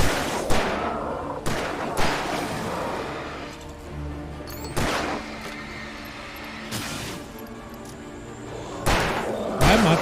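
Gunfire in the survival horror game Alan Wake Remastered: several sharp, loud shots spaced irregularly over a steady game ambience, with low rumbling and clanking mechanisms between bursts.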